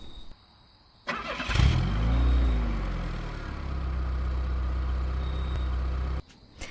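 A voice imitating a car engine, starting with a sharp burst, then a loud rumbling rev that settles into a steady idling drone for several seconds before stopping abruptly.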